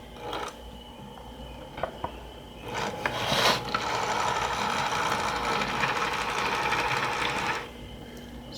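A vintage HO scale Burlington GP-7 model diesel locomotive runs on track with a steady, noisy mechanical whir and gear buzz that swells after a few clicks, holds for several seconds, then drops away.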